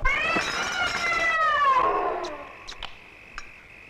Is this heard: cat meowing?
yes